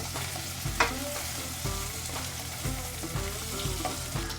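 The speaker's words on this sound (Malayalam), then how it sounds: "അരിഞ്ഞു വെച്ചിരിക്കുന്ന ടൊമാറ്റോയും പച്ചമുളകും ഇട്ട് കൊടുക്കാം. എന്നിട്ടൊന്ന് ഇളക്കി കൊടുക്കണം" Chopped tomato and green chillies sizzling in a pan while being stirred, a continuous hiss of frying broken by repeated scraping strokes at a steady pace.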